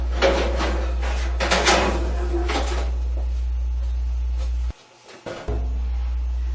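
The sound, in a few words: removing the drum from a General Electric dryer cabinet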